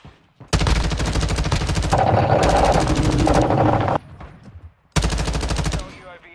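A light machine gun fires in Modern Warfare 2, loud sustained rapid bursts of automatic fire, one long run of about three seconds, a short pause, then another burst.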